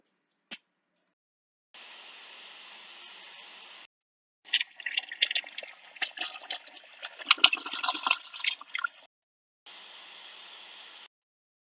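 A toilet flushing in a few separate bursts: a steady rushing of water, then a louder turbulent gurgling swirl, then another steady rush. The sound is moderately loud and close, with no speech.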